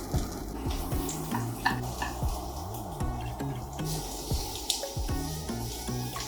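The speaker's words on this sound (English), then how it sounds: "So now we gotta stir fry the carrot and the chives." Carrots and chives sizzle in a pan during stir-frying for cabbage kimbap, with a steady hiss and scattered scraping and tapping of a utensil against the pan, close and moderately loud.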